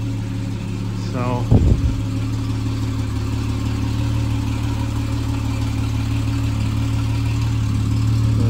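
A 1959 Triumph TR3 engine idles steadily while warming up after winter storage, a low even rumble close by, with a short spoken word and a brief mechanical clunk near the start.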